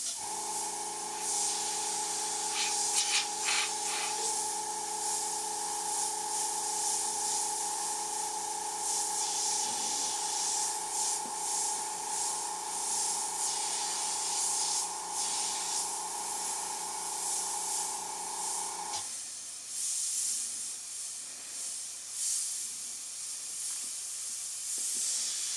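A freehand airbrush spraying paint, a steady close hiss with a low compressor hum underneath, running continuously for about nineteen seconds before cutting off to quieter room noise.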